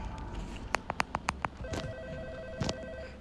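A telephone rings inside the horror video game Hotel Experience, set at a motel reception desk at night: a quick run of bright trilling bursts, then a steady electronic tone with one more burst, faint and close in a quiet room.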